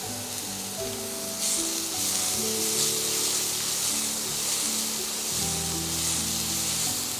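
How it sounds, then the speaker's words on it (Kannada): Amla, Indian gooseberries, fry briefly in a pan with a bright, continuous sizzle, and soft background music tones play beneath it. "ಒಂದು ಸ್ವಲ್ಪ ಆಮ್ಲಾನ ಫ್ರೈ ಮಾಡೋಣ."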